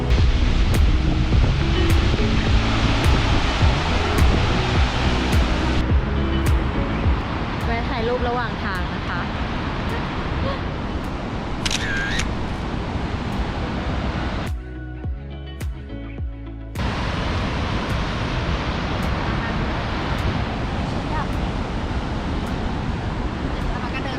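Kepler Cascades waterfall in Yellowstone roars as a loud, steady rush of water that persists throughout, with a brief dip partway through.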